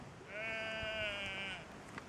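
A single sheep bleats once in the Northern England countryside, a clear, wavering, drawn-out cry of about a second and a half, moderately close, with quiet outdoor ambience around it.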